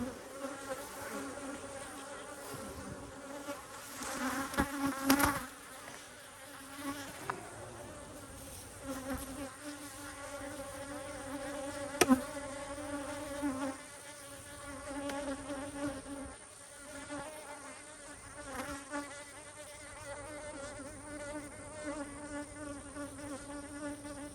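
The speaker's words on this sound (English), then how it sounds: "A lot of bees at the top" Steady, loud buzzing of many bees swarming close by at an apiary hive, a continuous droning hum with occasional louder passes and bumps, no voices.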